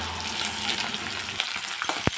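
Onion fries in a pan with bay leaf, garam masala, cumin and cloves, giving a dense, continuous close sizzle, with a few utensil scrapes and taps near the end.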